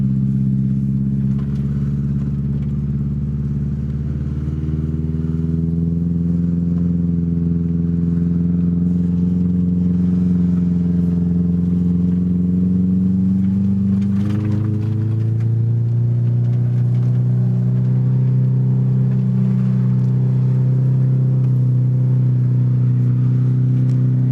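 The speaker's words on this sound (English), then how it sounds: "Third gear, cruising." Car engine driving along a flat beach, a steady close drone that rises and falls in pitch as the gears change, with one clear shift partway through. No talking.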